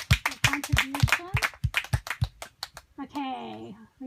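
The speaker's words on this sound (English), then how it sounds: "Let's give a good round of applause to this group for their contribution." A small seminar group claps in a short, uneven burst of sharp hand claps close by, mixed with people talking and laughing over and after the clapping.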